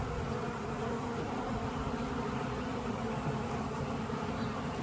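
Steady, dense buzzing of many honey bees, continuous and close, filling the whole stretch with no pauses.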